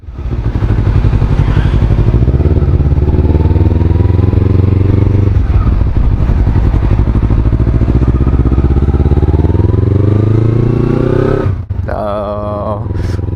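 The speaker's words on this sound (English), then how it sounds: "Taken the baffle out of the exhaust as well, so it does sound a bit meatier as well." A loud, throaty motorcycle engine with the exhaust baffle removed rumbles steadily up close, its pitch rising and falling with the throttle before a brief blip near the end.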